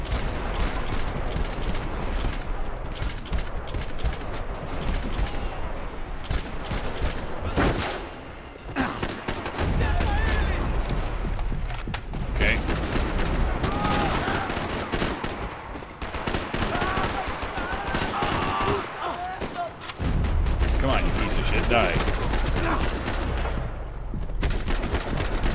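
Dense, sustained gunfire from the video game Max Payne 3, with rapid automatic bursts and scattered single shots layered over a loud, chaotic battle. It carries on almost without pause, with brief dips between volleys.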